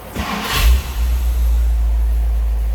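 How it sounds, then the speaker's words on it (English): A 1961 Ford Thunderbird convertible engine cranks and catches with a quick rev, then settles into a steady, smooth, loud idle close by, with no one talking. "I'm going to go ahead and fire this up."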